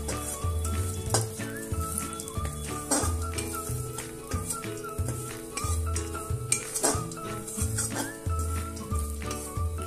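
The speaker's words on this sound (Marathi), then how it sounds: "थोड्या थोड्या तुपावर हे सगळे ड्रायफ्रुट्स मी आता चांगले परतून घेणार आहे" Dried fruits and walnuts roasting in a little ghee over low heat: a steady, soft sizzle beneath repeated stirring scrapes and light clinks of a utensil against the pan, continuous and close.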